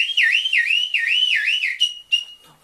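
An electronic alarm going off, a loud warbling siren-like tone that sweeps up and down in repeated cycles, then shifts to short steady beeps before cutting off, with no talking.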